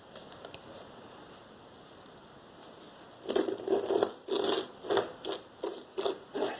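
Quiet at first, then a run of metallic clinks and jingles as coins are shuffled and dropped in rhythmic handfuls, close by.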